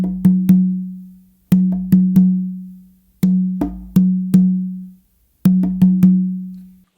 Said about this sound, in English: So to kind of just play that tumba part, it's going to sound like this.